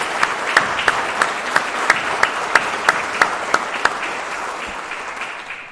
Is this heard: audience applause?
yes